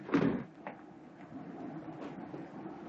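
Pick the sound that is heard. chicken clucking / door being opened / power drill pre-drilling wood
door being opened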